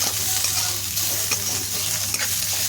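Garlic-ginger paste hits a hot pan and sizzles steadily, with stirring scrapes and a constant low hum in the background.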